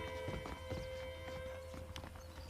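Horse hooves clip-clop steadily in the Red Dead Redemption video game, a saddled horse walking with an even rhythm over a constant background hum, with no talking.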